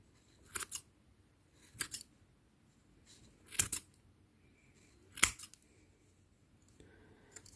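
Scissors snip through crochet yarn threads in four crisp, separate cuts at a slow, steady pace, close and quiet with no talking.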